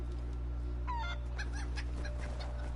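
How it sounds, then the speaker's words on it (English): A chicken in the video game Assassin's Creed 3 gives a few clucks and squawks over a steady low game hum. "Chicken? Get back here, chicken."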